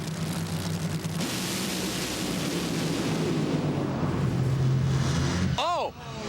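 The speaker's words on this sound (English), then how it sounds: "Oh, a huge explosion for Gilbertson." A drag racing car's engine explodes during NHRA qualifying at the Las Vegas Nationals, heard as a sustained roaring blast that swells and then cuts off abruptly, with an announcer's excited commentary over it.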